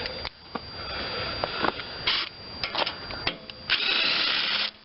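A tool works the heat shield bolts loose on an Ariens 30-inch snowblower with a Briggs and Stratton engine, giving short ratcheting whirs and clicks in uneven bursts, close and moderately loud.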